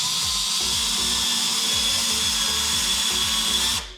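A power drill with a small bit bores a pilot hole into a wall stud, its motor whining steadily and loud up close, then spinning down at the end; no talk.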